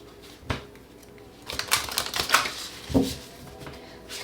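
Tarot cards shuffled by hand in a quiet room, with a soft flick near the start and then a run of crisp riffling bursts and one last snap, close to the mic and alone.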